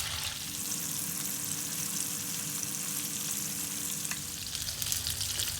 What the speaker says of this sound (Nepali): चिकन राखेको 2-3 मिनटपछि यसलाई यसरी फर्काउँदै पकाउँदै गर्नु होला।